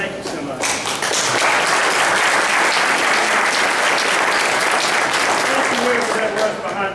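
Loud, sustained applause from an audience at a governor's bill signing for a tort reform law, many hands clapping steadily and close, with a voice briefly audible at the start.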